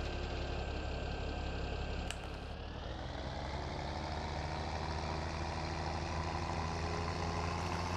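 A tractor engine in the Farming Simulator 17 video game runs steadily at a low, heavy drone, with a brief high beep partway through and no talking.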